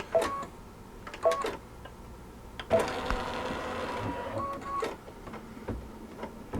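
A sewing machine stitching slippers runs in short bursts of mechanical whirring and tapping, stopping and starting several times at close range with no talk.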